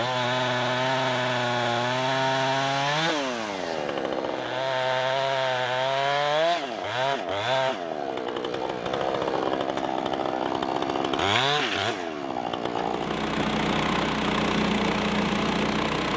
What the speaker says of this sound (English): The blade guide just contacted the log, which means it's going to have to be trimmed even more to get the rest of this cut.